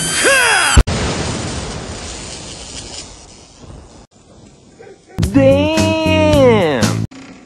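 A sudden sharp blast gives way to a long, fading rumble, with loud strained shouting voices before and after it.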